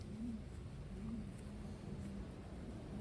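A female Taiwan pigeon coos softly in low, repeated calls at a steady, unhurried pace, faint against a quiet background hum.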